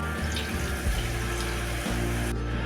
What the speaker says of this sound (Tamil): சால்னாவுக்கு தேவையான 1 டம்ளர் தண்ணி சேர்த்துக்கலாம்.